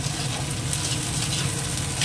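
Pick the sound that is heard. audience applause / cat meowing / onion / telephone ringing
onion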